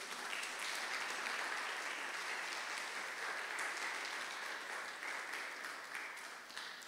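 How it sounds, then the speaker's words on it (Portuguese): A church congregation applauding a father and son, an even, sustained clatter of clapping heard from some distance at low level, fading slightly toward the end. "Pode aplaudir o pai e o filho aí?"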